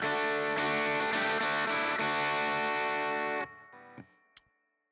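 An electric guitar plays through a clean amp pushed into distortion in Amplitube, ringing as a thick, sustained distorted chord that cuts off abruptly, followed by a few quieter plucked notes and a sharp click.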